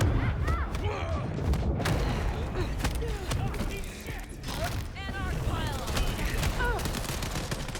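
Rapid bursts of gunfire ring out in the video game Vampire: The Masquerade – Bloodlines 2, sharp repeated shots layered with thuds and creaks, steady throughout, while voices talk underneath.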